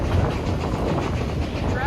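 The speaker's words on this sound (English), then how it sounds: "Tracks are bumping and swaying even more with the train." Steam-hauled excursion train on a fall color run, NKP 756, with railroad cars rumbling and clattering steadily over the tracks at speed, a dense continuous rolling roar with faint clickety-clack.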